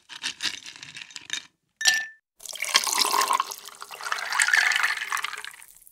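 Liquid pours into a glass in a few separate close bursts with brief pauses between them, ending in a longer steady stream, with a faint clink of glass.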